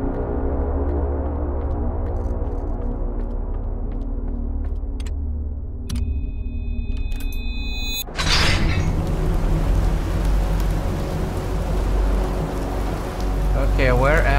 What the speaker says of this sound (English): Wow, that is a heavy rain.